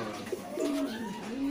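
Pigeons coo steadily in a loft, a continuous low warbling murmur from several birds close by with a few soft flutters, no talk over it.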